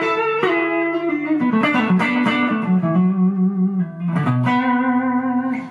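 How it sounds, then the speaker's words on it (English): Electric guitar played through a Boss pedal set to a slapback delay, a loud sequence of sustained notes and bends, each followed by a quick short echo, with no voices. "So it's just a slapback delay"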